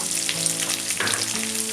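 Shallots and curry leaves sizzle and fry steadily in hot oil, a close, continuous crackle with no voices.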